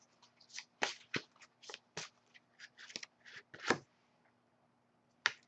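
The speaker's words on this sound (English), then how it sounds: "As I shuffle the deck" An oracle card deck is shuffled by hand close up, a quiet run of irregular crisp riffles and slaps with short pauses between bursts and one final snap after a gap, with no voices.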